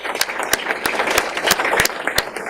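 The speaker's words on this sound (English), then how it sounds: "let's give her a round of applause" A round of applause at a county board of commissioners meeting: scattered clapping from a small audience, steady and moderate, with a few sharper claps standing out and no talking.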